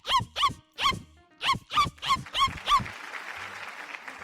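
A mimicry artist imitates a dog's barking with her voice: seven sharp, evenly spaced barks close up, followed by a wash of applause.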